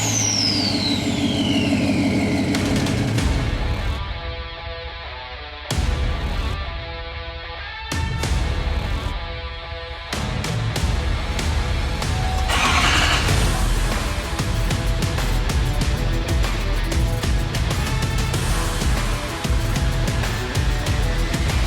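A tuned L5P Duramax diesel pickup truck cold-starts and settles into a loud, heavy idle with a rough low rumble, and the engine note rises and dips briefly several times near the start.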